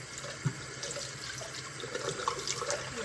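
Water runs steadily from a tap while a woven wool piece is rinsed in a sink after weaving, a close, even splash and trickle with a few small sloshes.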